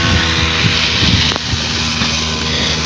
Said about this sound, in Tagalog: Partner at bali dito naman siya nagagrass cutter sa may tabi ng kubo.